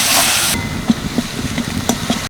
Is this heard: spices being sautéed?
yes